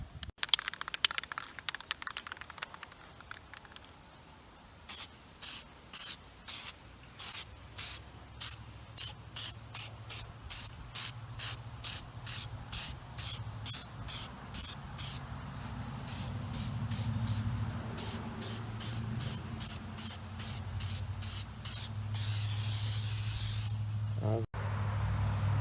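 Spray can laying zinc chromate primer onto a Volvo DP-C1 boat outdrive in a long run of short, rhythmic hissing bursts, closing with a longer continuous spray.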